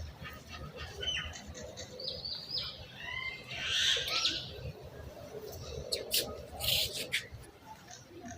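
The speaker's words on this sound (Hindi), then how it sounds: "ये मैना है, एक टांग वाली मैना" A one-legged myna gives bursts of chattering, squawky calls outdoors, some loud and close, mixed with other bird chirps while a person talks over them.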